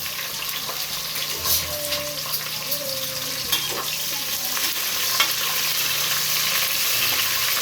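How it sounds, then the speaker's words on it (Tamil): Green chillies frying in hot oil in a pot for chicken biryani, a steady close sizzle and crackle running throughout with occasional stirring clinks, fairly loud and without speech. "பச்சை மிளகாய் போடுறோம்."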